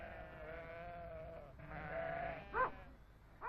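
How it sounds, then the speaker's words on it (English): Sheep in 1950s New Zealand bleat in a steady, sustained wavering chorus, with one louder bleat near the end standing out over the flock's continuous calling. "Of the country's 49 million sheep and lambs, 21 million are killed every year."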